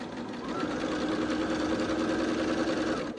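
A sewing machine stitches a quilt seam in one steady, continuous run at close range, with a rapid even whir and no voices.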